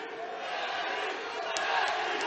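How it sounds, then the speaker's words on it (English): A boxing crowd at a live Colorado event chants for a fighter named Manny during the final round, a sustained, fairly distant roar of many voices that swells slightly toward the end. "Chants of Manny throughout the crowd, trying to fire up their fighter."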